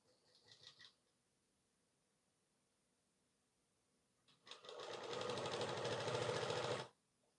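A sewing machine stitches the shoulder seam of a 40-inch blouse. After a brief rattle at the start and a pause, it runs in one steady, close, fast whirring burst of about two and a half seconds, then stops.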